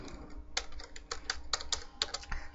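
Typing on a computer keyboard into Notepad on a PC: a quick, irregular run of close, crisp key clicks against a quiet background, with no talk.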